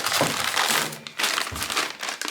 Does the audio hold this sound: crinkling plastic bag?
yes